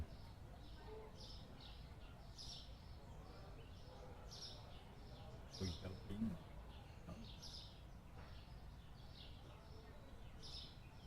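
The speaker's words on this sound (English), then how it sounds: "Get the bird sounds with some lo-fi." Faint birds chirp repeatedly in the background over a steady low hum, with soft indistinct voices underneath.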